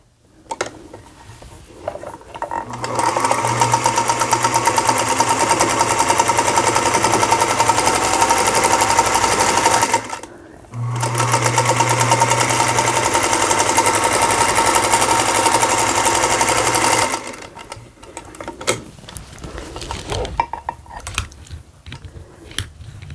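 Sewing machine running loud and steady along quilt block seams, two long continuous runs of about seven seconds each with a brief stop between, followed by light handling clicks.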